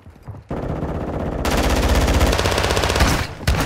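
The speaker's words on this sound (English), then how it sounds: "You are taking effective fire." Sustained automatic gunfire in the Call of Duty DMZ video game on the Ashika map, loud and close, a short burst giving way to a dense continuous volley with a brief pause near the end.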